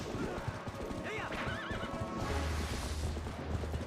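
Spectre horses in the video game Twilight Princess HD neigh in shrill, wavering whinnies over galloping hoofbeats and game music, with a player talking over the action.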